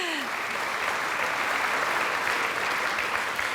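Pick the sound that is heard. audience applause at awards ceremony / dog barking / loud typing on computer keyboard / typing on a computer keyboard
audience applause at awards ceremony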